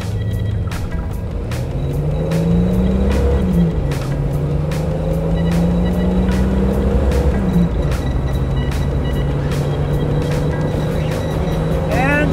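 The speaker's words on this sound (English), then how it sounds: "All right, stroker zero to 60 test." A Jeep Wrangler with a stroker engine accelerates hard from zero to 60, its engine note climbing loudly and then dropping at each gear shift, heard close up throughout.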